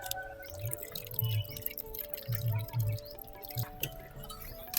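Water poured into a pot of Telugu-style fish curry (thullu chepala pulusu) being mixed by hand, giving soft dripping and splashing sounds in short bursts against a steady kitchen background.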